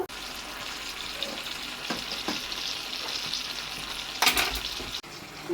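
Gongura leaves sizzle and fry in hot oil in a pan for a prawn curry, a steady close crackle with a few stirring scrapes and a brief louder burst near the end.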